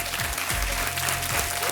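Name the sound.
applause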